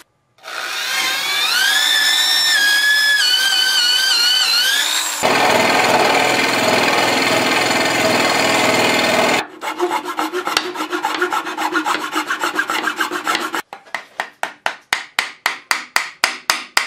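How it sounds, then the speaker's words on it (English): A wooden stock for a Chu-ko-nu repeating crossbow is cut through for the bow slot: a whining power-tool cut, then a harsh rasping stretch, then rapid rhythmic hand-saw strokes, all loud and close. "The last thing we need to do is cut out the bow slot through the stock"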